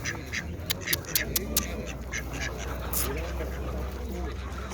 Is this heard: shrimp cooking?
no